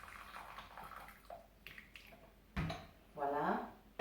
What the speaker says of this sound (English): So I'm going to pour the water into the pot